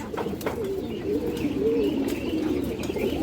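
Pigeons coo steadily and softly throughout, a continuous low burbling from several birds kept for sale, with a few faint chirps and light wing rustles close by.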